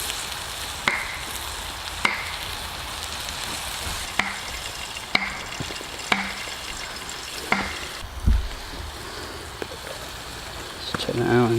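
Food frying in a camp pan on an outdoor camp kitchen alongside a pork joint, a steady sizzle broken by a series of sharp clinks and scrapes of a utensil stirring, close up, with a voice briefly speaking near the end.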